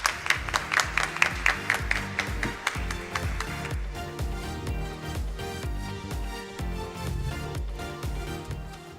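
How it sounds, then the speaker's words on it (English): At a schools quiz semifinal, the audience claps for the teams in a strong, regular rhythm, sharp and loud at first, then settling into a denser, steadier patter over a rhythmic background. "Let's give them a round of applause"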